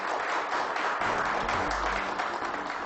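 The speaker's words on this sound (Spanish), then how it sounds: "Vamos a darles un aplauso." An audience applauding at a talk, a dense, steady wash of clapping from many hands lasting a few seconds.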